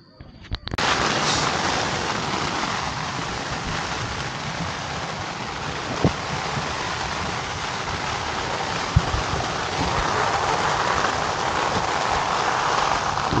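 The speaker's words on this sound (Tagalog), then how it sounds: "Malakas ang ulan." Heavy rain pours steadily on a campsite shelter nearby, a dense constant hiss with a couple of sharp knocks partway through.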